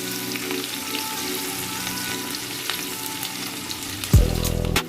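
Chopped onion fries in hot oil for tel koi fish curry, a steady close sizzle and crackle that swells suddenly louder near the end as more goes into the pan.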